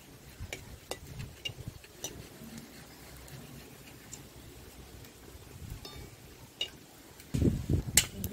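Dry red chillies and cumin seeds crackling in hot mustard oil in a kadai, a soft continuous sizzle with scattered ticks and pops, fairly faint, ending in a louder burst of spattering.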